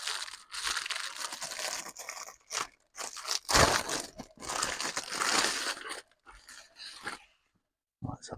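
Packaging for issue 128 of the Hachette Partworks Titanic model kit being torn open, with loud, close crinkling, crumpling and ripping for several seconds, then a few quieter rustles and a pause.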